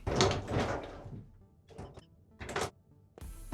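Metal locker doors in a high school in the survival video game SCUM are handled: a loud opening clatter, then a few shorter bangs and thunks spaced apart, close and fairly clear, with no talk.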